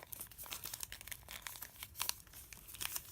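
Close, crisp paper crinkling and creasing while folding an origami ninja, with a rapid series of sharp crackles and rustles and no talk.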